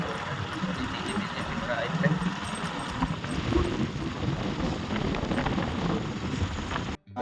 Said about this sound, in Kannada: ಮಳೆ ಫುಲ್ ಐತೆ